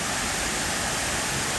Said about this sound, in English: at least the upside down waterfall is still here for now